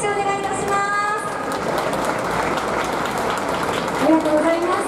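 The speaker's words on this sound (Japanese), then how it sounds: "改めて拍手をお願いいたします" Crowd applause at a team-name announcement event for a professional basketball team at Kamome Plaza, Nagasaki Station, a dense steady clapping with a voice over it near the start and again near the end.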